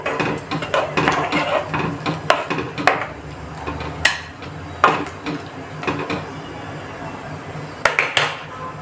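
Clattering scrapes and knocks of a spoon stirring pav bhaji vegetables with coriander inside a metal pressure cooker, irregular and close, some strokes louder than others.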